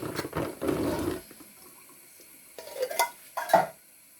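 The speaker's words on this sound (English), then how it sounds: "Just drain my chickpeas whilst the potatoes are cooking." Canned KTC brand chickpeas drained of their liquid, a short burst of rushing, splashing water followed by a quiet pause and then a few light clinks and knocks of a can or colander.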